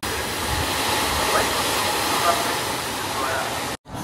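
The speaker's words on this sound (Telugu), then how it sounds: "వీళ్ళు కూర్చుని దగ్గర ఏదో వాటర్ సౌండ్ వస్తుంది." Running water from a water recycling system at a temple stairway pours in a steady, dense rush, heard continuously and fairly loud before briefly cutting out near the end.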